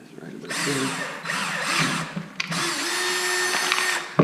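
A power drill bores pilot holes in a Honda CRF250L airbox cover, whining in several bursts that rise and fall, with short pauses between them and a sharp click at the end.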